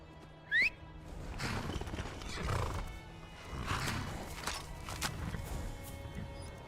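In the Skyrim video game, a horse gives a sharp, bright neigh near the start, then its hooves clip-clop in an uneven walking rhythm, close and moderately loud.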